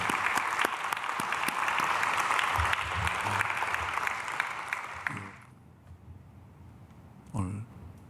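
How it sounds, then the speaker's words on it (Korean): Church congregation applauds during a Sunday worship service, a loud, dense round of clapping that runs for about five seconds and then stops abruptly, leaving a quiet hall and a brief voice. "박수하겠습니다."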